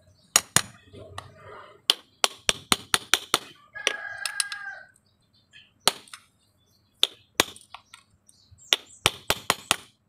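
Sharp metallic taps in irregular bursts as a flat screwdriver is hammered against a Panasonic washing machine motor, with a rooster crowing briefly in the middle and a few faint background sounds between strikes.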